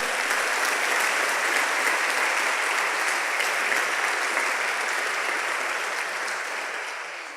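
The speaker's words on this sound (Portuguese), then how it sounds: "dê um aplauso ao Senhor também." A church congregation gives the Lord a loud, dense round of applause: steady, sustained clapping from a large crowd that fills the space and tapers slightly toward the end.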